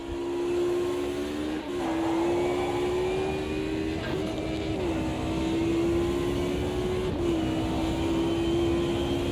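Mercedes DTM race car in the Automobilista 2 racing game, with a steady engine drone that holds a constant pitch and drops briefly at each of several gear shifts, heard alone and fairly quiet.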